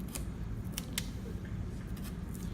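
A blade works like a saw to cut small pieces for a suspension box craft, giving a few crisp snips over a steady low background hum with no talking.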